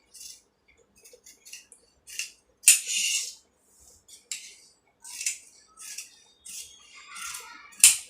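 Scissors cutting fabric for kurti sleeves, a series of short crisp snips in irregular bursts, close and fairly quiet with pauses between cuts.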